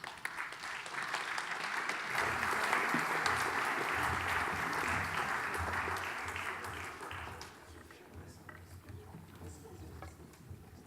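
Sustained applause from a congress audience, dense clapping that holds for several seconds before tapering off to scattered claps.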